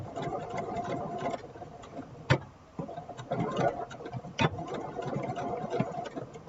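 A sewing machine stitches a seam forward and then back over it to lock the stitching on fabric. It hums with a rapid, steady motor patter, broken by brief pauses and a few sharp clicks, close and moderately quiet.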